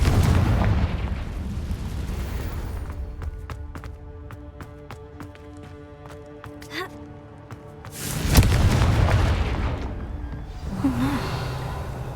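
Confringo blasting spells exploding in the Hogwarts Legacy video game: a broad, booming burst near the start and a second loud blast late on, separated by a quieter stretch of tonal game sound.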